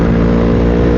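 Stock, non-remapped motorcycle engine held at a loud, steady rev, a continuous close drone with no talking.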